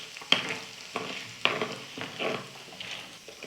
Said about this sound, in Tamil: எல்லாத்தையும் சேர்த்து நெய்யில் நல்லா நம்ம வறுத்துக்கலாம்.